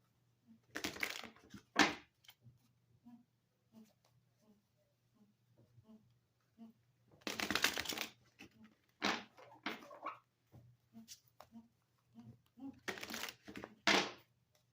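A tarot card deck is shuffled in a few separate bursts of riffling and crinkly card noise at close range, with quiet pauses and light handling sounds between them.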